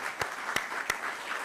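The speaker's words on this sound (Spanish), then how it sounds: "la vamos a recibir con un fuerte aplauso" Steady applause from a lecture audience welcoming a professor to a talk on prison sentencing benefits, a dense, even wash of clapping with a few sharper claps standing out.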